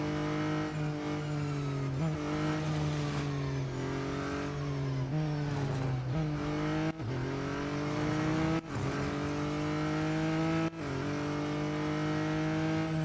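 A McLaren Artura GT4 engine in the Real Racing 3 video game revs steadily at high pitch, with repeated gear shifts and brief dips in the loud, continuous drone of a racing lap.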